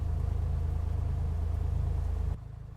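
A small aircraft engine in a flight simulator, heard from the cockpit with the headset off: a loud, steady droning rumble with a fast pulsing beat that drops to a quieter, muffled drone near the end.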